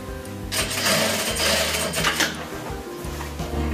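A sewing machine stitches the front and back seams of baby pants, its needle chattering rapidly and close, with short changes in speed and a brief slowdown partway.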